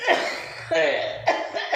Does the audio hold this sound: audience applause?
no